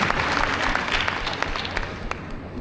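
A crowd at a Gujarati music concert in the UK breaks into loud applause for the prime minister, a thick wall of clapping that gradually thins toward the end with a few sharper individual claps standing out.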